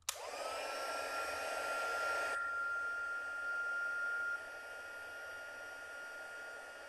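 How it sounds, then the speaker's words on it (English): A heat embossing tool blows hot air over a stamped birthday card, a loud steady roaring whoosh that starts abruptly, holds with a whining tone, then drops to a softer hiss near the end. "Now I'm going to heat emboss it. It's going to get a little loud, sorry."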